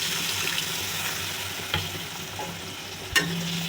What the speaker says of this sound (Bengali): অল্প জল দিচ্ছি।